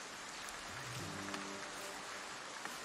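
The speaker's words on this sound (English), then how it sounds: "the rain is dropping all the time. I hear it so loudly." Steady rain hisses continuously in the city-building video game Foundation, a soft even patter with a faint low tone briefly rising underneath.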